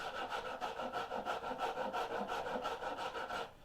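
Steady back-and-forth strokes of a hand rasp carving a wooden boat half hull model, close and rhythmic at about four strokes per second, continuing alone without any talk.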